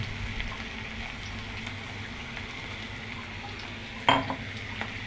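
Ground cumin stirred into a frying pan, with soft continuous sizzling and scraping and one sharp metallic clank of utensil against pan toward the end, no voices.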